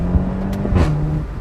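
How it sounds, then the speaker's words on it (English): A 2023-era VW Golf GTI TCR with a 290 PS engine and DSG gearbox drones steadily through its exhaust from inside the cabin, a loud, continuous hum with a brief rising swell. "that exhaust is just life."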